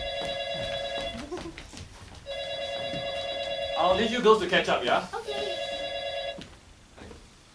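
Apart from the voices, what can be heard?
phone ringtone ringing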